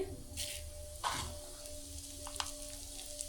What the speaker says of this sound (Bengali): কড়াইতে অল্প করে তেল দিয়ে দিলাম আর এখন এই যে জিরে দিয়ে দিচ্ছি